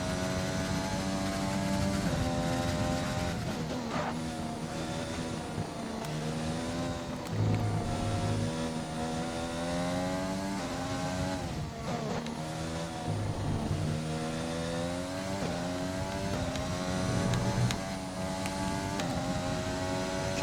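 An F1 race car engine revs continuously in a racing video game at the Belgium Grand Prix, with its high harmonic whine climbing and dropping through gear changes and steady, loud and close.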